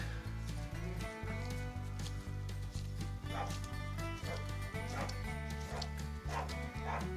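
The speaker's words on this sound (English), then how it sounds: "Oh, I can hear a dog outside" A dog barks repeatedly in the distance, faint and muffled, over a steady low hum.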